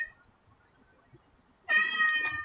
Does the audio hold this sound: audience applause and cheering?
no